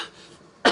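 One short, sharp human cough bursts out right at the end after a near-silent moment, close and fairly loud.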